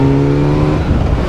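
A Kawasaki Z900 motorcycle accelerates on an open road, its engine a loud, close, steady drone with strong tonal harmonics that roughen and shift toward the end.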